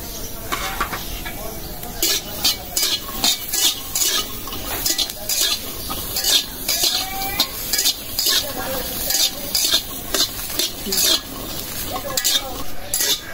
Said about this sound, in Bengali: এখন ভাজা নিব কাঁচা মরিচ